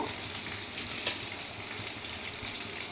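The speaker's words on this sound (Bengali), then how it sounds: "এখানে দিয়ে দিচ্ছি কড়াইতে তেল" A steady hiss of hot oil sizzling in a wok, continuous and fairly close, with a small clink partway through.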